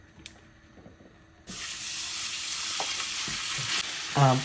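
Beef mince hits hot oil in a pan and begins a loud, steady sizzle that continues to the end, with a few stirring clatters on top.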